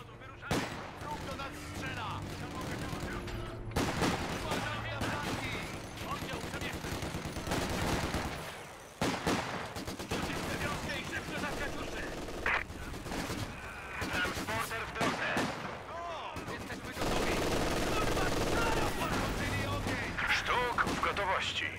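An artillery gun crew fires in a Company of Heroes 2 multiplayer battle, with heavy repeated blasts and crackling gunfire throughout a loud, dense battlefield din, and voices calling out over the fighting.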